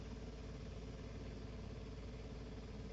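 Piper J3 Cub engine idling in a flight simulator, a constant droning mid-pitched rumble that holds steady and uninterrupted, heard alone at moderate volume.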